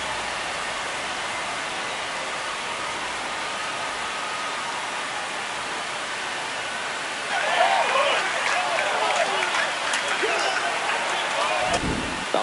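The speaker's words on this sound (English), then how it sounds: "This crowd has really come alive." A baseball stadium crowd at a Yankees versus Red Sox game erupts after a two-run home run: steady broad crowd noise swells into a louder, sustained roar of cheering for the second half.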